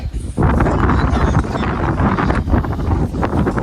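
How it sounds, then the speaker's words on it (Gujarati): Strong, cold wind at a hilltop temple buffets the microphone in a loud, constant rush with gusty swells and no clear voices. "ખરેખર ઉપર વાયરો એવો છે ને એટલી બધી ઠંડી વાય છે"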